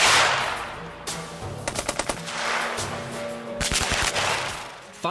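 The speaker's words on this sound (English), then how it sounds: "Firing in short bursts is the Army-approved machine gun technique." Maxim machine gun firing short, sharp bursts of rapid shots, loud and close, with ringing echoes and rumble between volleys.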